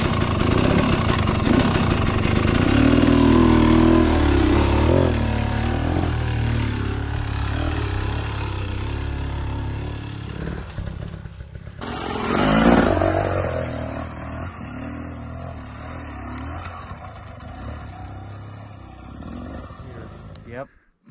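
A motorcycle engine runs with smooth, steady throttle while the clutch is modulated, a continuous mid-pitched drone that swells and eases, rising sharply once near the middle, with a rider talking over it.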